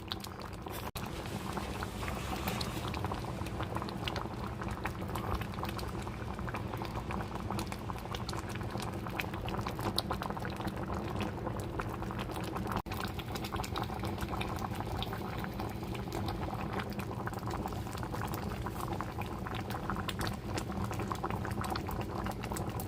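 A pot of beans and vegetables boiling on low heat, giving a constant, low bubbling patter that stays even throughout, quiet and with no talking.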